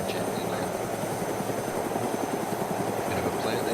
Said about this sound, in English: Make sure that the helicopter's level and then drop it into the ground.